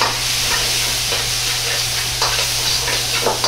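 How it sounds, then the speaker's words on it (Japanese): Steady sizzling and crackling from bamboo shoots and egg being stir-fried with soy sauce in a hot pan, with occasional scraping stirs, close and continuous. "醤油の香ばしさを引き出すようにして炒めていきます"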